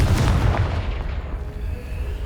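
A Confringo blasting spell goes off in the video game Hogwarts Legacy, hitting a pile blocking a stairwell. It is a loud, deep boom with a heavy low rumble that fades over about two seconds, with no talking.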